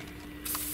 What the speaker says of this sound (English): Is there any spot there I didn't spray?